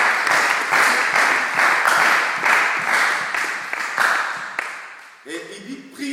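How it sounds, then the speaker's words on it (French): A church congregation applauds in steady, rhythmic clapping that fills the room for about five seconds, then fades as voices and singing take over. "Acclame Jésus"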